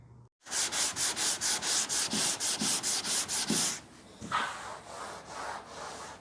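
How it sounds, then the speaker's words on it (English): Auto body filler being hand sanded with a flexible block and 180 grit paper: a quick, even run of about a dozen rasping back-and-forth strokes, close and clear, followed by a few slower, softer strokes. "Now I'm going to break out my flexible block for this body contours above this body line."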